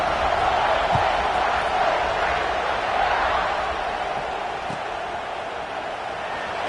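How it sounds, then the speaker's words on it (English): A stadium crowd in the CFB25 college football video game buzzes and roars after a score, a dense, continuous wall of cheering that eases slightly over time, with a commentator's voice over it. "this crowd is buzzing after that last score"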